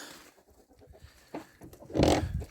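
Hens in a winter hen house during a thaw give soft, scattered clucks, then a louder close flurry of clucking and wing rustle swells near the end.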